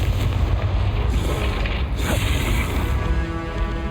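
Fire-spell blast in a Harry Potter video game, a continuous dense rumbling boom with mechanical rattling that sustains loudly throughout, with no speech over it.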